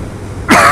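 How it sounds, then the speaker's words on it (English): A single abrupt throat-clearing cough bursts out loud and close after a near-silent moment, and the rasp trails on briefly. "sorry about the coughing"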